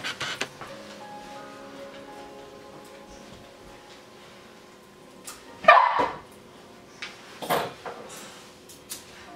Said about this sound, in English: I have a new puppy who's learning manners from some of the older dogs, so she's being a little frustrating.